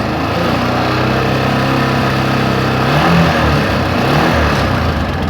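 The engine of a Kawasaki Barako 175 motorcycle runs loud and close with an even, continuous drone and no sputtering or talking.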